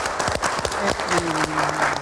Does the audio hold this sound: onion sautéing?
no